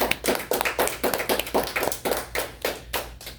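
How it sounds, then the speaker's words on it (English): A round of applause from a classroom audience of students and parents after a student's spaceshooter game presentation, with steady rhythmic clapping throughout, moderately close, with no talk over it. "let's give a round of applause to Andrew"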